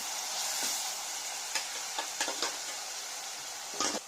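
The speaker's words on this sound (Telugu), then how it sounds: "ఆయిల్ బాగా వేడైన తర్వాత పచ్చిమిరపకాయలు వేగిన తర్వాత ఉల్లిపాయల ముద్ద కూడా వేసుకొని" Onion paste and green chillies fry in hot oil for a chickpea and potato curry, giving a steady close sizzle with a few sharp spatula scrapes and clicks scattered through it.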